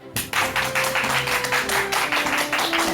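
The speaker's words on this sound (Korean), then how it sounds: "큰 박수로 맞이해 주시기 바랍니다" A television studio audience applauds to welcome a parenting-education expert, steady clapping over sustained background music, starting suddenly and holding at an even level.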